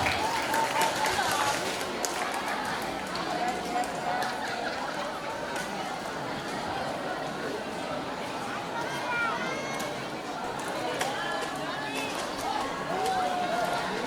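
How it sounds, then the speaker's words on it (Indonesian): A school audience at a student council candidates' debate claps steadily in a long, even wash of applause, with crowd chatter and shouts mixed in throughout. "Oke, tepuk tangan semuanya."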